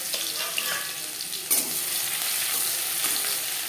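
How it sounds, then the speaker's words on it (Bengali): Crushed garlic drops into chilies frying in hot oil, giving a dense, steady sizzle throughout, with one brief clatter partway through and no talking. "লঙ্কা ভাজা হয়ে গেছে, দিয়ে দেবো রসুন।"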